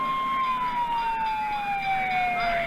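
Ambulance sirens wail in Huntsville as crews head to tornado scenes, one loud, steady wailing tone sliding slowly downward with traffic noise beneath it.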